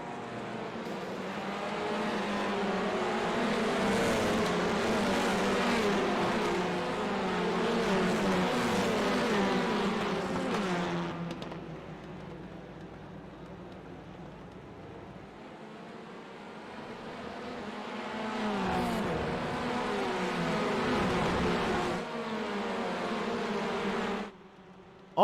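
Race cars roaring around Daytona in a racing video game, a dense, continuous buzz of high-revving engines that eases off midway and swells again, with no talking over it.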